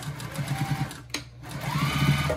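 Sewing machine stitching a fabric bowl cozy: a fast, steady mechanical whir with rhythmic needle pulses, a brief pause in the middle, then it resumes at speed, close and clear.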